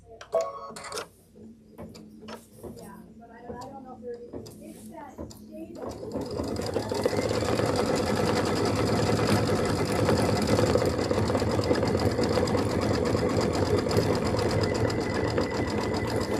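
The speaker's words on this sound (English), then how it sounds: "we're going to do some satin stitching around our little chimneys" A sewing machine satin stitching around the chimneys of an embroidered quilt block starts up after a few seconds of quiet handling noises and someone talking, then runs as a fast, steady, close mechanical whir through the end.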